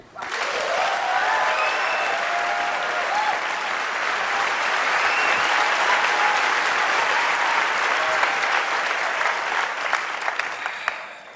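Sustained, loud applause from a large audience fills the whole stretch, dense clapping that holds steady without pause.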